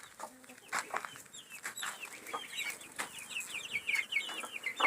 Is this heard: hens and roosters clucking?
yes